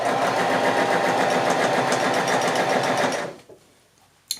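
Sewing machine running steadily while stitching a quilt block, a loud continuous mechanical whir with rapid needle rhythm for about three seconds before stopping, then near quiet with a small click at the end.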